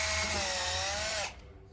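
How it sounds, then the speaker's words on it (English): A power drill with a 7/32 bit whines steadily at close range, drilling a hanger hole on a Mazda 323 GTX, its pitch dipping slightly before it cuts off abruptly, leaving a quiet hum. "then drill it out"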